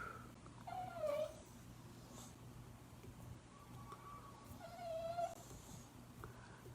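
A dog whines softly in a few high, wavering bursts, fairly faint and close, over quiet background hiss.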